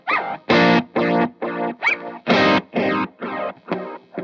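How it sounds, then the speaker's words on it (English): Electric guitar played through a tape delay effect on a stereo worship pedalboard, a run of about ten distinct, distorted-sounding notes picked at an even pace, loud and close with no voice. "the just the tape delay, I actually kind of have this on all the time usually."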